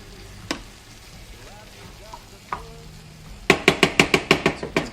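Chicken and vegetables frying in a pan, with a few isolated clanks and then a rapid run of sharp, rhythmic scraping hits as the food is stirred, close and fairly loud.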